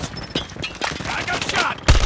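Dense rapid gunfire in a Call of Duty multiplayer match, loud bursts overlapping continuously, ending in a heavy close blast.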